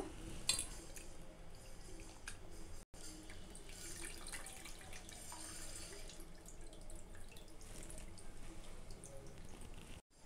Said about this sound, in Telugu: ఇప్పుడు ఇందులోనే కొద్దిగా నీళ్ళు అయితే పోసుకొని మళ్ళీ కలిపి దాంట్లో అయితే పోసుకుంటున్నాను.